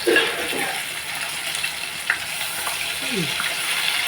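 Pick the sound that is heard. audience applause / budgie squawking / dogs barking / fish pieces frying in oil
fish pieces frying in oil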